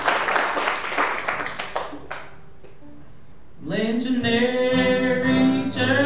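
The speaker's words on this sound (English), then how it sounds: "Let's give them a round of applause." Audience applause for a kids' jam band, a dense burst of many clapping hands that fades out partway through, followed by a gap and then sustained singing with music.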